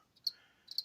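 Live feeder crickets chirping faintly in two short high-pitched bursts against near silence.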